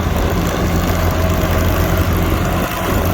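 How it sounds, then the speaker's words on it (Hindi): A tractor pulling a super seeder with both levers lowered drones steadily and loudly up close, a dense rumbling engine noise with no pauses. "ये देखो दोनों लीवर डाउन पे चल रहा है भाइयों ट्रैक्टर"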